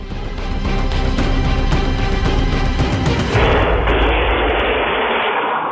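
Dense, sustained bursts of loud gunfire from four shooters roll on without pause, then give way to a harsh, steady roar of noise near the end, captured on CCTV near a gym.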